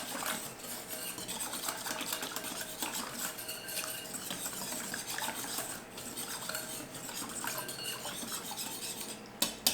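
A whisk beats wet ingredients, including apple cider vinegar, in a bowl, making a rapid, continuous clatter and scrape against the sides that sounds close and steady.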